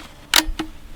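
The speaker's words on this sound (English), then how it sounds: "So I'm going to use the camera shutter, which works basically something like this" A Speed Graphic 4x5 camera shutter fires, giving two sharp mechanical clicks close up, a louder snap followed a quarter-second later by a softer one, with nothing else around them.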